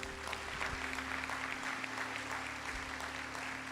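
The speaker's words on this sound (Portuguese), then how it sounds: "Aplaude a Deus, aplaude." A church congregation applauds continuously during a sermon, a soft, even patter of many hands heard at a modest distance with a faint murmur beneath.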